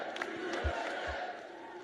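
A crowd of students cheers and whoops at a rally, a loud, roaring wash of voices with a few thumping bangs beneath it.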